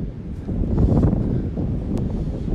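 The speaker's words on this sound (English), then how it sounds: "The wind is really bad" Strong wind buffets the outside of a cattle panel greenhouse on a cold day, a loud rushing roar that swells and eases over a couple of seconds, with light rustling on top.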